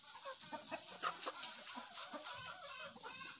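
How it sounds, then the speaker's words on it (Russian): A neighbour's rooster in a rural village yard gives faint, quick clucking calls in an irregular run, distant and quiet with no talk. "соседский петух"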